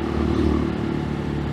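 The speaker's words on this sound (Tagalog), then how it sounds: "Aakatin namin yung summit gamit yung mga motor namin" Several motorcycles climb a steep uphill route toward the Mount Balagbag summit in Rizal, their engines droning loud and close in a steady, continuous rumble with no talk.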